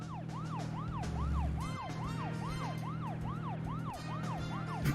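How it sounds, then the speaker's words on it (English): A wailing siren from the video game Deadly Premonition rises and falls in a steady repeating cycle, loud and continuous over a low engine drone, with no talking. "Forgot that the siren increases your stamina consumption."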